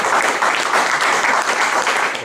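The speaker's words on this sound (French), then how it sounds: "On peut acclamer le Seigneur." A church congregation applauds and cheers for the Lord during a Sunday sermon, steady dense clapping filling the room throughout at full strength.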